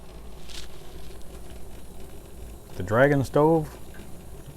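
Water at a rolling boil on a Dragon camping stove used indoors without a lid, a steady bubbling hiss beneath a man's brief nearby speech.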